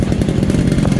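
Motorcycle engine running close up with a rough, buzzing, rapidly pulsing sound during a short ride to a remote fishing spot.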